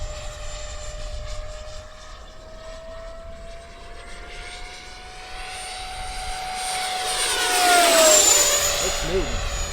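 An 80mm X-Fly Sirius RC jet flies at high power, its loud turbine whine holding steady and then swelling sharply as it passes close by before easing off into the distance.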